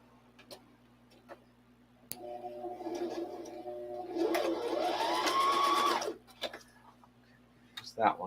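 A sewing machine stitches fabric during a refit, running steadily for a few seconds in a rising whir, then stopping, with a person speaking faintly around it.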